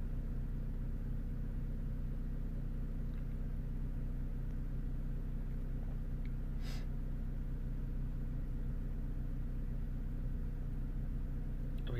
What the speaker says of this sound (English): Yeah, the car is running. Obviously it's on the cold start.